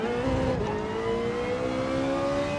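Ferrari Group 4 race car engine in Gran Turismo 7, a steady high-pitched whine holding near-constant revs with a slight gradual rise, loud and continuous with no talk.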